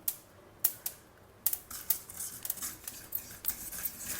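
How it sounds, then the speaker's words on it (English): Black sesame seeds popping while dry roasting in a kadai, a scatter of sharp, light crackles and ticks at irregular intervals, quiet and close, no talk. "dry roast about 2 tablespoons of this black til or sesame seeds"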